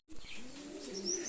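A Laldom pigeon coos close by, a short low warbling call lasting just over a second, with no voices.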